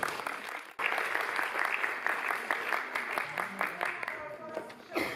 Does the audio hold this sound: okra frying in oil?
no